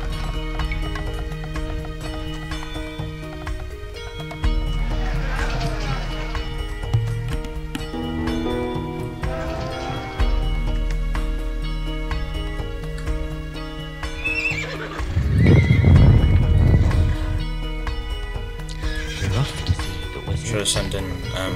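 Horses neighing and hooves clattering in the video game Age of Empires II, with several whinnies and galloping hoofbeats over dense battle effects and game music, while voices talk over it.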